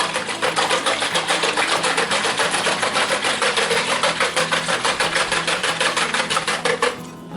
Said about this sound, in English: And I will whisk that together good.